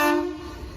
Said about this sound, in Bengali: চলে আসলো মশাগ্রাম বাঁকুড়া মেমু প্যাসেঞ্জার